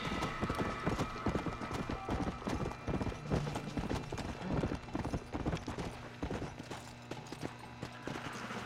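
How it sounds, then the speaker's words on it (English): A horse gallops in the video game Red Dead Redemption: Undead Nightmare, rapid rhythmic hoofbeats pounding continuously and loudly with a steady engine-like ambient hum beneath, no speech over it. "You are a fine horse that can't hop over fences, obviously."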